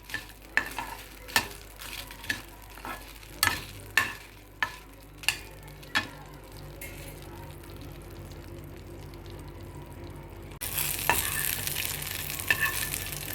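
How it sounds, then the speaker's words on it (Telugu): Green and dried red chillies frying and being stirred in a pan for mint chutney, a steady close sizzle broken by a series of sharp spatula scrapes and clinks, growing louder and hissier toward the end. "ఐదు పచ్చిమిరపకాయలు ఐదు ఎండుమిరపకాయలు వేయించండి"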